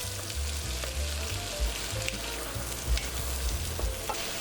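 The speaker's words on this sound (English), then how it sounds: "Then add our veggies. Toss for about 2 to 3 minutes on high heat." Vegetables with whole dried chilies stir-fry in a pan over high heat, a steady close sizzle with soft scraping and tossing knocks recurring irregularly, no voices.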